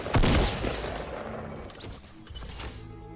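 A rapid, dense stream of weapon fire from a minigun in the video game Fortnite, loud at the start and then rattling on more quietly for about three seconds.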